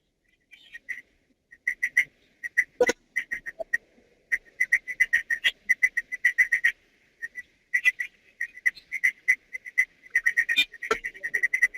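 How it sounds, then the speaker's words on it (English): Repeated short, bright chirping whistles in quick bursts, steady and fairly close, with brief pauses between runs and no talking. "I'm hearing a whistle."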